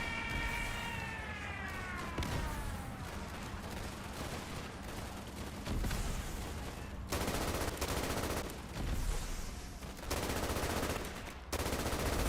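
Automatic machine gun fire in the World War II shooter Easy Red 2, with dense rapid bursts that stop and restart, loud and close amid ongoing battle noise.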